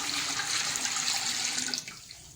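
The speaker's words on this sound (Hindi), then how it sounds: "अब हम इसमें ये यखनी शामिल करेंगे।" About half a litre of chicken stock (yakhni) pours into a fried spice masala in a steady, rushing splash for nearly two seconds, then stops abruptly.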